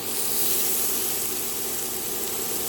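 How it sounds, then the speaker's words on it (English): Shrimp laid on a small indoor grill give off a steady, broad sizzling hiss that holds at an even level throughout, with no talking. "I'm putting my shrimp on my grill now"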